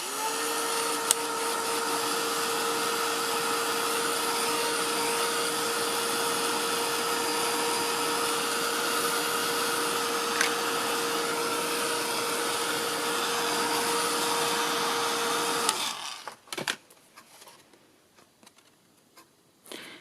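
A heat tool blasts hot air over gesso-coated card, a loud steady whirring roar with a fixed whine held close for about sixteen seconds before it cuts off, leaving faint clicks and handling noises.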